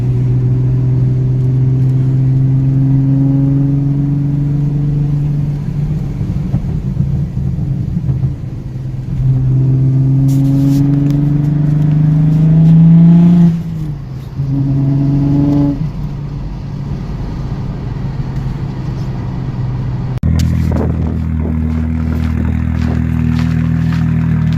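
An Audi B5 S4 with a twin turbo engine and two-step launch control revs hard, with a deep droning idle, rising rev sweeps and popping crackle, loud and close, with a sharp burst of harsher revving near the end.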